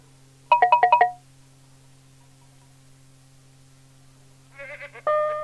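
Goats bleating, a burst of five quick, loud, wavering calls followed after a quiet gap by a few more rising bleats near the end, all heard alone over a faint steady hum.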